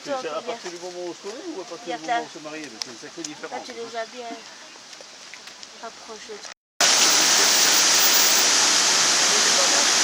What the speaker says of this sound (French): On va voir beaucoup de cascades ici